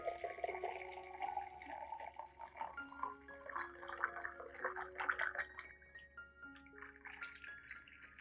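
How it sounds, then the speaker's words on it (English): About 500 milliliters of hot water pours steadily into a container, a continuous splashing stream with faint ringing tones as it fills, close and moderately quiet. "And add about 500 milliliters of hot water."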